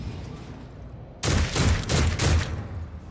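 Gunfire in the video game Warhammer 40k: Rogue Trader, a sudden burst of several rapid shots in quick succession, loud and punchy, breaking in over quieter background game ambience.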